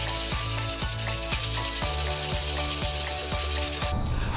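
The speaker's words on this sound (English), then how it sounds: "use my sandpaper to sand down any high spots so that they're flush with the wall" Rhythmic scraping of sandpaper against a wall, smoothing high spots flush, in steady back-and-forth strokes with a faint mechanical hum beneath.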